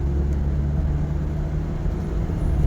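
A Mitsubishi Pajero 4M40 with an automatic transmission and a fourth-gear fault after a full stop drones steadily from inside the vehicle as it accelerates through the gears, a low continuous engine rumble with no voices.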